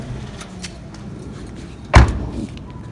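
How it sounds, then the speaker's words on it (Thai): A car door is swung shut with a single solid thud that stands out sharply midway through, close and loud against a quiet background, followed by faint rustling. "ปิดประตูรถด้วยสิคะคุณ"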